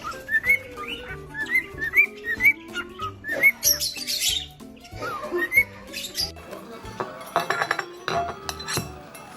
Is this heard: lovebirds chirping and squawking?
yes